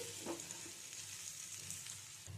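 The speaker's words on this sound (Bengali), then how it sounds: "ভালো করে নেড়ে ছেড়ে নিচ্ছি" Date pickle stirred in a pan with tamarind: a quiet, even sizzle of oil with a couple of soft spoon scrapes near the start and end, close by and without talking.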